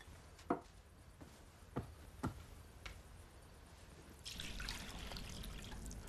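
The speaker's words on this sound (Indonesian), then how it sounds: "Lalu ia menuang air ke dalam sebuah baskom" Several sharp knocks and taps sound early before water begins to pour into a basin, a continuous splashing trickle that fills the last two seconds; moderately close, with no talking.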